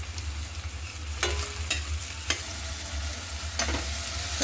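Tomatoes with salt frying in a pan hiss steadily, punctuated by several sharp spoon clicks and scrapes against the pan, over a low background hum.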